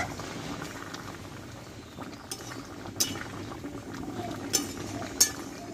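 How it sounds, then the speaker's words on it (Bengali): Potato and pointed gourd curry with poppy seed simmering in a pot, a soft, low bubbling burble close by, dotted with a few light clinks of a utensil, fairly quiet with no speech. "এবার আমি আরও কিছুক্ষণ মতো ফুটিয়ে নেব"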